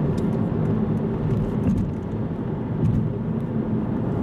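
An Aston Martin Virage engine drones steadily during a test drive, a continuous low rumble heard from inside the car with no talk.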